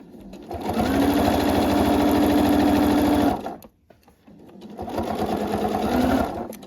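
Sewing machine stitching a fully lined waistcoat seam, running loud and steady for about three seconds, briefly pausing, then starting up again in a second continuous run.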